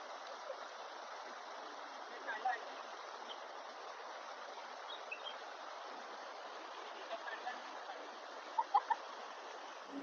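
A small village stream in the Konkan flows with a soft, constant rushing babble, faint and distant, with a few brief chirps or splashes rising over the steady water.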